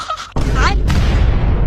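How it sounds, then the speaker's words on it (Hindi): A cartoon firecracker set off by a spark dropped into a pipe explodes in a loud boom that cuts in suddenly and rumbles on, after a short cartoon sound effect and just ahead of a voice talking. "तभी खरगोश इधर से एक चिंगारी पाइप में डाल देता है तो उससे पटाखा में आग लग जाता"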